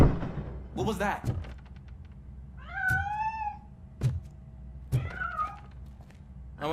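Several rising and falling cat meows from a video game cat in RoboCop: Rogue City, fairly close, spaced across the scene with thumps and steps between them.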